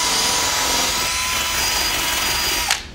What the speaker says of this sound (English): we'll take various tools that you would find at your local hardware store, such as a drill with this special texturized head